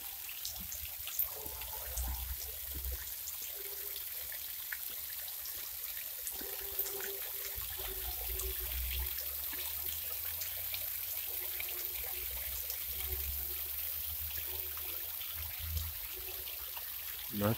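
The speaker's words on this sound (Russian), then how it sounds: "Интересный такой фонтан" A garden fountain with a small waterfall and a lion sculpture in a botanical garden splashes and trickles steadily, soft and continuous, with no voices.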